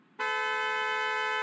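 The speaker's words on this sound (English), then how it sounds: "These are now honks of support." Car horns honking at night outside a fire station open house, starting abruptly after a brief quiet moment and holding as one loud, steady, continuous blare to the end.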